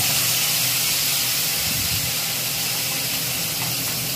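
A kitchen chimney exhaust hood runs at full power while spices cook, producing a loud, constant broadband whoosh of fan and airflow that fills the whole stretch without pause.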